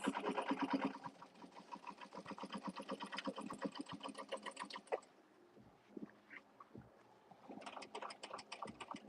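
A sewing machine runs a rapid, even stitching rattle along a seam of an upcycled Gucci bag, pauses briefly midway, then starts again with short bursts, close and fairly quiet.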